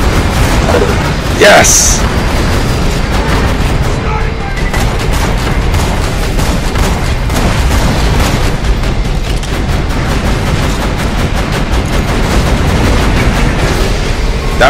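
A deployed turret in Borderlands 2 fires at enemies, rapid gunfire mixed with booming blasts in a continuous loud barrage, while a player briefly shouts over it.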